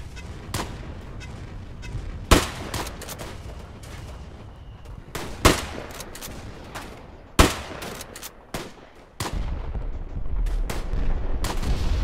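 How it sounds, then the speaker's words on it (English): Artillery and rifle fire in the WWI shooter game Tannenberg, with loud close booms and sharp cracks at irregular intervals over a constant battlefield rumble and scattered distant gunfire. "My artillery."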